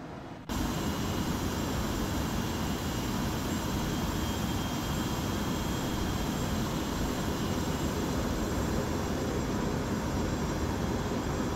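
Jet engines of an ERJ-145 at full throttle in a flight simulator, a steady, loud, broadband roar that starts abruptly and holds unchanged throughout.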